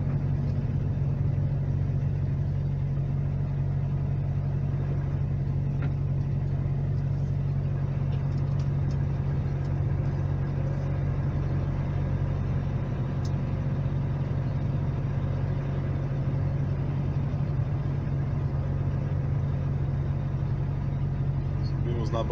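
A truck engine idles steadily with a low, constant rumble while the vehicle stops at a weighing scale during a Brazilian customs crossing, and the drone runs unbroken throughout.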